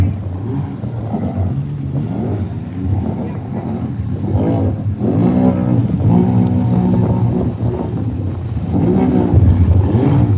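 A UTV engine revs and drones loudly and steadily at an off-road event with water crossings, its pitch rising and swelling through the stretch, and voices may be faintly present beneath the roar.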